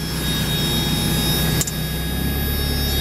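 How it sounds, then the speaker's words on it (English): A Mazda Miata idling with its AC compressor engaged makes a loud, steady engine drone that runs throughout, dipping briefly midway before resuming. "Let's turn the AC on. Let's see what that does. Okay, compressor kicked in"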